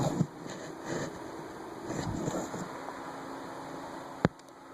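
A Hampton Bay/Commercial Electric industrial fan fitted with 1980 Gold Line blades runs with a steady, airy whoosh and a faint motor hum, broken by one sharp click near the end.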